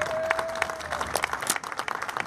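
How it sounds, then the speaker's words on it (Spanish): Guests at a quinceañera party clap, a scattered burst of individual claps with a faint tone briefly ringing beneath, fairly quiet and uneven over a couple of seconds. "Que se oiga fuerte esos aplausos."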